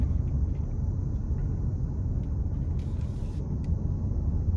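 A 2024 Hyundai Santa Fe SE in sport mode accelerates onto an interstate, giving a steady low engine and road rumble from inside the cabin with a faint hiss, no talking.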